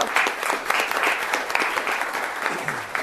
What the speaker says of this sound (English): all the applause is for you